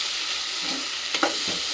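Masala sizzles in a hot pan for egg masala, a steady frying hiss with a few short scraping stirs of the spoon toward the end.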